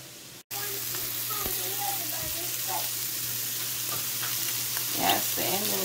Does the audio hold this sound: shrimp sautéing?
yes